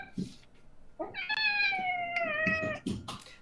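A person imitates a cat's meow during a tabletop game session, drawing out one long, wavering, nasal cry between short bits of speech.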